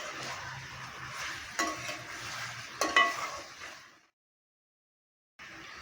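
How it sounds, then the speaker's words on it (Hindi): Chicken, about 700 grams, sizzling and frying in a pan over a medium gas flame while being stirred, with steady close sizzle and scraping stir strokes for about four seconds before it cuts to silence and then resumes briefly. "देखिए चिकन को अच्छे से मैंने भून लिया है, कलर चेंज हो गया है"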